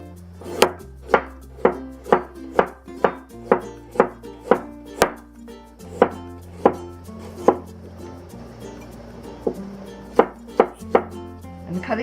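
Ginger is sliced and shredded with a knife on a cutting board, a close, steady run of crisp chops, about one per half second, pausing briefly and then resuming, with no talk.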